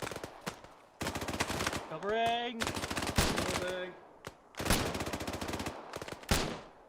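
Rapid automatic gunfire in the Arma 3 video game comes in long, dense bursts of closely spaced shots, loud and near, broken by short pauses, with voices calling out between bursts.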